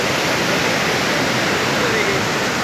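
Dangerous, fast-flowing river water near Batkhela, Pakistan rushes in a loud, steady broadband roar, continuous and close with no breaks.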